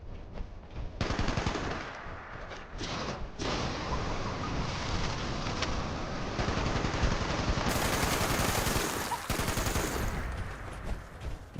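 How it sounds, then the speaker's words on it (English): Sustained automatic gunfire rattles on in the video game Fallout 76, dense rapid bursts of shots running almost continuously at loud, close volume with brief breaks. "Can't we just shoot them all?"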